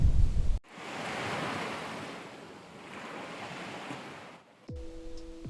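Ocean waves at Bavaro Beach, Punta Cana, roll in as a broad, soft surging wash with gentle rising and falling swells, heard alone between brief cuts.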